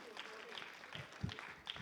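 An audience at a forum discussion claps, a short burst of scattered, fairly faint applause with some crowd murmur.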